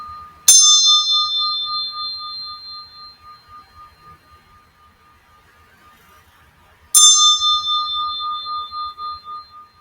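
A high-pitched metal bell struck twice about six seconds apart, each strike ringing out clearly with a long, shimmering decay in an otherwise quiet room.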